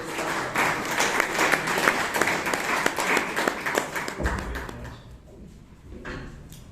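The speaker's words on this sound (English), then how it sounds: "with a round of applause for Mr. Karnataka" An audience claps at a Toastmasters club meeting in Bangalore, a sustained round of many hands that thins out after about four seconds, ending with a few knocks and bumps in the room.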